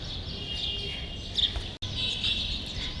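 Birds chirp on a breezy rooftop where a parrot feeds nearby, with repeated high, light calls over steady wind noise, briefly cut off by a short gap midway.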